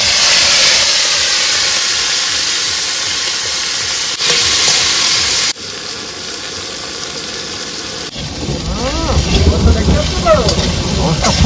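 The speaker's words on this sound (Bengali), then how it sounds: "আর আজকে মাছ ভাজা না, আজকে পুরো চানাচুর ভাজা করে দিচ্ছি, চানাচুর ভাজা" Chanachur snack fries in hot oil, loud steady hissing and sizzling that changes character partway through with bubbling crackles, while a person talks over it.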